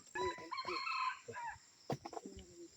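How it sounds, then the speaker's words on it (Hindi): A jungle fowl crows nearby in a short, clear call, followed by a few softer clucks and rustling sounds. "जंगल मुर्गी का आवाज आ रहा है।"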